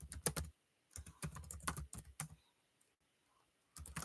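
Quick bursts of typing on a computer keyboard, crisp close clicks in short clusters separated by a silent pause, then resuming at the end.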